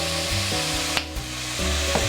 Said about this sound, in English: Let me continue to stir fry for another 30 seconds